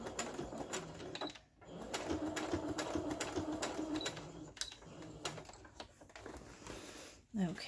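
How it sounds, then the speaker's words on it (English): A sewing machine back-stitches a clear plastic shaker pocket for a lapbook, a quiet steady whir broken by brief stops, with a person talking over it. "We're gonna back stitch here."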